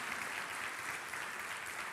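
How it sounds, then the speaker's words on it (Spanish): Church congregation applauding during a sermon, a dense, steady wash of clapping from many hands that holds at an even level throughout with no voices on top. "¿Cuánto le aplauden a Dios?"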